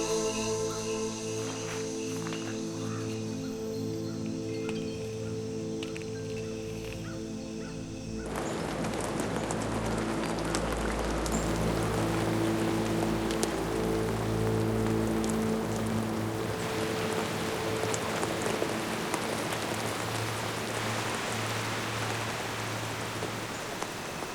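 Steady rain hisses, growing heavier partway through, while crows caw now and then in the background.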